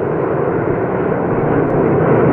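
Aircraft engines of President Kennedy's plane, a loud, steady low roar that fills the whole stretch without pause, heard up close and alone with no talk over it.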